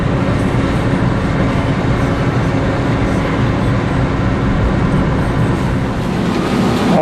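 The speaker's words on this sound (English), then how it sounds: "we are on a little tram going up the mountain to Königstein Fortress" Steady, continuous rumble of a small tram climbing a mountain to Königstein Fortress near Dresden, Germany, a constant mechanical drone with a faint hum running throughout and no talking.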